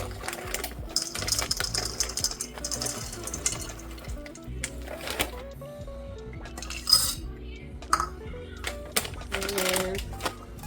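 Pistachios poured and scooped into a measuring cup for homemade trail mix, giving repeated light clattering and clinking close by, steady over several seconds with scattered sharper rattles.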